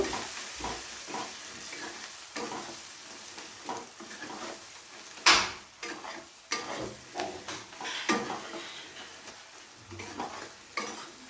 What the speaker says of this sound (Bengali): এবারে সমস্ত মশলাকে আবারও একসাথে ভালো করে কষিয়ে নেব